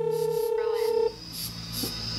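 Incoming-call ringtone on a Legend 9 Mini smartwatch, a melodic electronic tone of sustained pitched notes that stops abruptly partway, followed by quieter brief beeps in the background.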